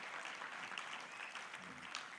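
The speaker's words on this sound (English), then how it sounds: "Give her a good round of applause" Audience applause at a vocational education conference fills the hall as steady, dense clapping from many hands, holding at an even level throughout with no voices rising above it.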